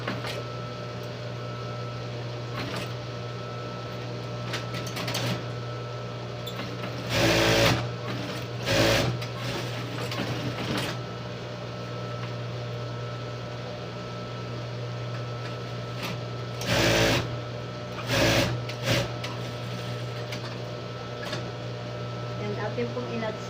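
A sewing machine runs steadily, stitching and clean-finishing the armhole of a V-neck blouse, with a constant whirring hum and a few brief louder surges.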